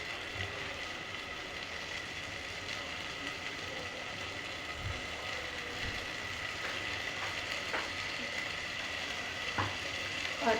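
Rice frying in a pan for mushroom biryani, a steady soft sizzle with occasional scraping stirs and light clicks of the spoon, close and continuous with no talk.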